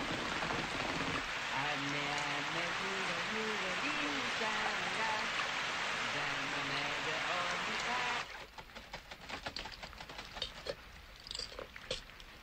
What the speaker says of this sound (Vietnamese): Từng giọt, mưa rơi lợp đợp.